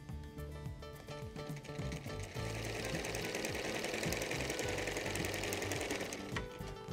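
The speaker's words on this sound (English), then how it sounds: "Then we move it back under the machine and start sewing from the very edge." A sewing machine stitches bias binding from the edge, running in a fast, even mechanical chatter that steps up slightly after a brief start and continues steadily, close and alone.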